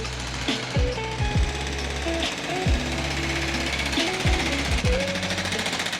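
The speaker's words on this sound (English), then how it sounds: "I figured I'd let you know before the jackhammers take over" Jackhammers pound away at a Sydney street construction site on Sussex Street, a loud, continuous rapid hammering with repeated sliding pitch sweeps from passing traffic mixed in.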